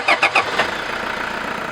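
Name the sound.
diesel pickup truck engine running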